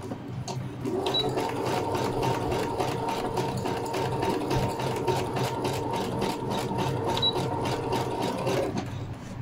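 A sewing machine runs a short zigzag stitch on fabric for a Brazilian thong, a close, steady rapid rhythmic chatter lasting most of the stretch, then stopping near the end.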